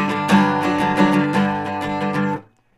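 Distorted electric guitar plays the riff from Pierce The Veil's "Kissing in Cars", a run of evenly spaced picked notes ringing together for about two seconds, then cutting off into silence.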